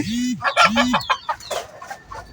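Chickens cluck close by in a quick run of short, throaty bursts, with a couple of drawn-out calls mixed in.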